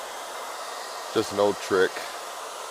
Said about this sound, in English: I'm using a hair dryer to dry it out so that way we can see if those stains come back or not.